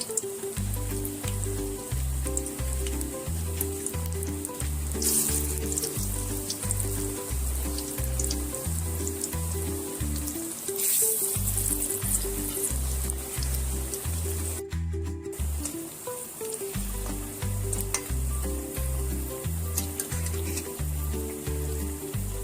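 Sliced onions fry in hot oil for onion fritters, making a continuous bright sizzle that holds steady throughout. Rhythmic background music plays underneath.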